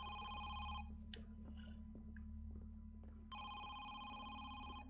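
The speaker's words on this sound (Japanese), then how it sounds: "1階の電話が鳴る。" A telephone rings downstairs in a house in the horror game Home Sweet Home, two electronic bursts of ringing separated by a quiet gap with faint ambient game sounds.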